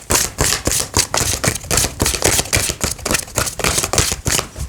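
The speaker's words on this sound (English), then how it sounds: "These are very hard cards to shuffle because they're quite large." Quick rhythmic flutters and slaps of large, stiff playing cards being shuffled repeatedly, close and crisp, with bursts of riffling in an uneven pattern.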